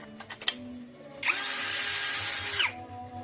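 Cordless power tool running on a ProCraft battery, a steady whirring drill motor that spins up for about a second and a half and then stops, preceded by a few light clicks.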